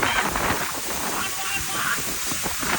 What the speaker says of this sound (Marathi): नुसतं असं बघितलं की नुसतं बघत राहावं असला खतरनाक धबधबा आहे